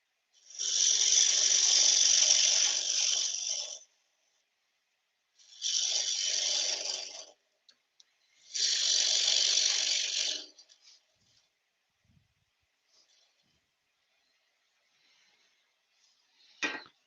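Wood being cut on a lathe with a 1/4 inch bowl gouge while a wooden tealight holder is turned, three hissing, scraping passes of a few seconds each separated by silence, followed by a brief faint scrape at the end.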